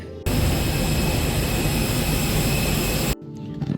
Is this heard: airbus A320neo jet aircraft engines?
yes